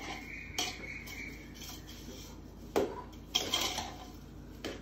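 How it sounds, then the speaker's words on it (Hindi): A spoon stirs cooked rice and sugar together in a cooking pot, giving quiet, scattered scrapes and metallic clinks with no talking. "चावल और शक्कर को एक साथ मिलाएंगे।"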